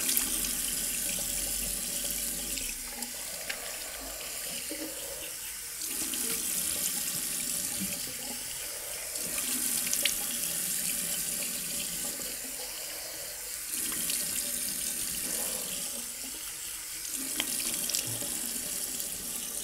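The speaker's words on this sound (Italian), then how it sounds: "Pulita, la ripongo in asciugatura e vado a risciacquare il viso." Bathroom tap running into a sink while the face is rinsed, a close steady rush of water that swells and dips in waves as hands splash and move under the stream.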